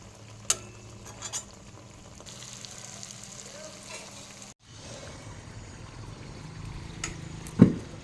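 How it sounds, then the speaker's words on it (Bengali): Pakan pitha deep frying in oil gives off a continuous close sizzle and bubbling, broken by a brief drop and a sharp clatter near the end. "ভাজা হচ্ছে"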